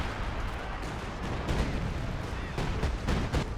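Dense artillery barrages in Company of Heroes 2, a steady roar of booming impacts and rumbling blasts with sharper hits layered in, loud throughout the brief stretch.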